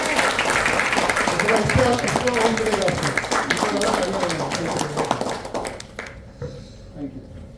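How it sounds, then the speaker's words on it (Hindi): A seminar audience claps loudly and steadily for the speaker, dense applause filling most of the moment before tapering off, with a voice talking over it. "थोड़ा वापस जोरदार ताली हो जाए सर के लिए"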